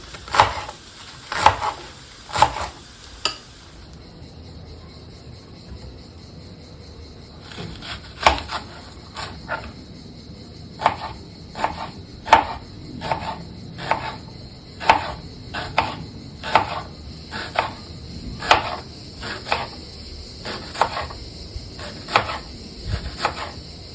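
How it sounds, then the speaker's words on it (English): Knife chopping vegetables into small pieces for an Italian vegetable tart, a run of sharp, fairly regular taps on a board, close by, with a brief pause early on and no talk. "Now these have to be chopped in small pieces."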